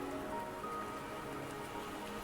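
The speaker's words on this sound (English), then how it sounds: "The rain won't last much longer." Rain pours steadily in the video game Wuthering Waves, a close, constant patter of drops with soft tonal game music underneath and no speech.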